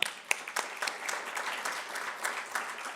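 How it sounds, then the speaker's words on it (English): A crowd applauds steadily for about three seconds, dense overlapping claps at an even level with no voices. "So give yourselves all a round of applause, too."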